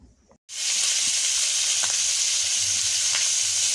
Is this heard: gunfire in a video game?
no